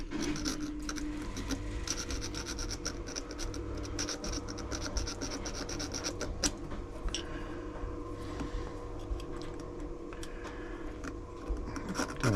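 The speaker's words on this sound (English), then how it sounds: "It's got some little burrs on here, so I'll file them down." A metal file works burrs off the needle plate of a Janome Jem Platinum 720 sewing machine. Close, continuous rasping strokes scrape on for the whole stretch, with no one talking.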